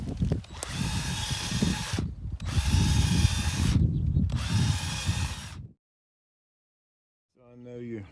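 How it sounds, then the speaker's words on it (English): An old power drill bores into the ground beside a tree, running in three loud steady bursts separated by brief pauses before stopping. A voice starts speaking at the end. "just take an old drill"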